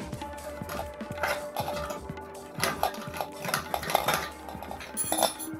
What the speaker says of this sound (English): take something like a spoon or something metal and stick it in that hole and just spin it around to get the hole a little bit bigger